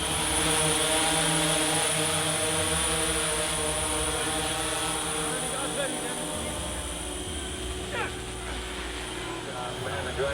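Camera drone flying low overhead on a film set: a steady, high-pitched motor whine that holds throughout, with background noise and a faint buzz beneath.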